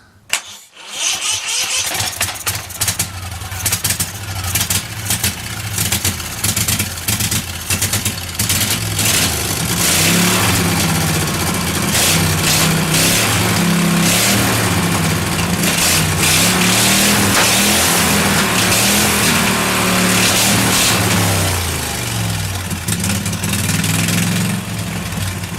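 A V-twin drift trike engine with only one cylinder firing cranks, catches and runs, revving unevenly in loud, rough bursts close by before settling into a steady, labored drone.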